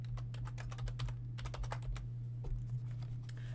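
Typing on a computer keyboard while coding, a rapid, uneven run of close key clicks over a steady low electrical hum, with no voices.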